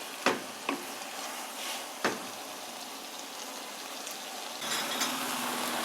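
Chicken coated in masala sautéing in a pan, a low steady sizzle with a few sharp spoon knocks against the pan near the start, quiet and close, growing slightly louder toward the end.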